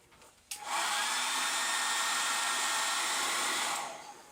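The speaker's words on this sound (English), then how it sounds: "So I'm going to try warming it up with a hairdryer" A hair dryer switches on and blows steadily for about three seconds, warming an electronics enclosure for a DIY dyno load controller, then winds down; a loud, even broadband whoosh with no talking.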